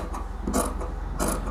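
Scissors cutting fabric for a kurti neckline, two short crisp snipping crunches about half a second apart over a low background hum, close and fairly quiet.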